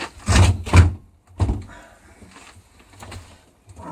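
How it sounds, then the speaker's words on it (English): A uPVC door is pushed into its frame during installation, giving a few heavy thuds and knocks up close, followed by quieter shuffling and scraping. "Okay, so put your door into place."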